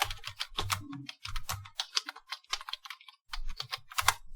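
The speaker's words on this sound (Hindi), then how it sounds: "इनको आपको टाइप करना होता है" Rapid typing on a computer keyboard during practice in Soni Typing Tutor, with close, dense key clicks in uneven bursts and a brief pause midway.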